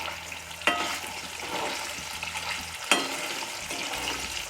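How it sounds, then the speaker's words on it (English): Pieces of surmai seer fish frying in oil on a medium flame, a steady close sizzle with two sharp clinks of a utensil against the pan. "just for a minute we'll fry on a medium flame"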